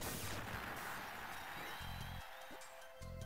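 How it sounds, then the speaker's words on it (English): Bombs exploding in the Game Boy Advance game Kirby & the Amazing Mirror: a dense, noisy barrage of crunchy blasts over game music and chiptune beeps, held fairly steady throughout, with no voices. "have some bombs and die"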